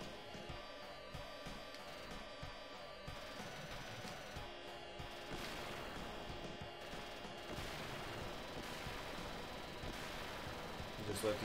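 Rapid gunfire from a Sega Genesis video game rattles steadily through busy game music and effects, with dense repeated shots filling the whole stretch.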